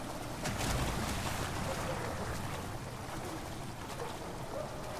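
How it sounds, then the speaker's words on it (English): Running water in the horror game Amnesia: The Dark Descent, a continuous broad rushing wash with a brief swell early on, steady and fairly loud. "I hear running water."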